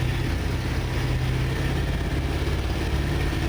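M4 Sherman tank engine rumbles loud and steady as the throttle is pushed up during a hard left turn, a dense continuous low drone with no breaks.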